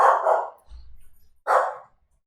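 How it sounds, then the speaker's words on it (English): Household dogs bark loudly in two sharp bursts, separated by a short gap with a low rumble. "So you can probably hear my dogs in the background."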